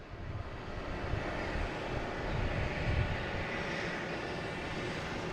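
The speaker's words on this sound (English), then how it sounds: "here comes Delta Flight 5707" Delta flight 5707 from Cincinnati arrives at Boston Logan with a faint, distant, steady rumble of aircraft engines carried on outdoor air.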